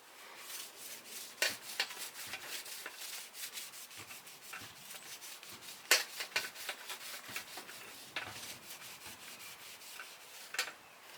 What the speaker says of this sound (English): I'm just rubbing it gently.